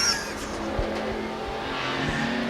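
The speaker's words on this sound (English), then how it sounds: "when I first heard that engine for Rick there, I thought it sounded like he was having a miss or something" A race car at La Crosse Speedway qualifying, its engine running with an uneven, popping stutter like a misfire, a steady close roar with irregular low thumps and no talk.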